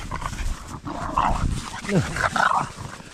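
Dogs run through a forest, giving several short barks and yips mixed with rustling, while someone speaks to them between the barks.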